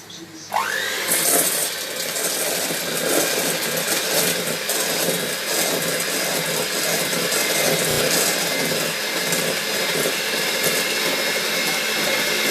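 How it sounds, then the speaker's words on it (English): An electric hand mixer creams butter and sugar for banana bread, a loud, steady high whir running unbroken from near the start with no pauses. "you can do like me and use the hand mixer"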